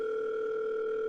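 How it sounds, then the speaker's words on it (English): A telephone sounds with a steady, loud electronic tone that holds unbroken for about a second in a quiet kitchen, with no voices. "Phone is ringing."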